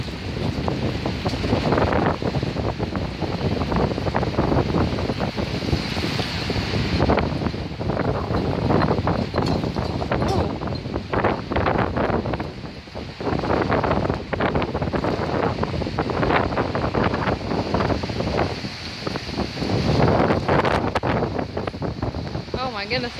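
Hurricane Matthew's wind roars hard and steadily outside a store, a loud, continuous gusting rush with buffeting on the microphone, while a voice exclaims now and then.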